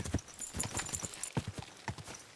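Horse hooves clip-clop on the ground in the video game Kingdom Come: Deliverance 2, a run of close, uneven knocking steps heard alone.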